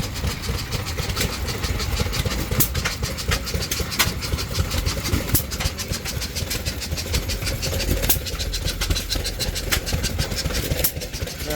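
Antique stationary engine at an agricultural fall fair, running steadily with a continuous low chugging beat and fairly loud, dense mechanical noise, with occasional sharp clicks over the top and no speech.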